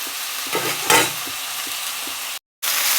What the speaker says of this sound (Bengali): এই পেঁয়াজের পাতাগুলো ভাজতে থাকুক,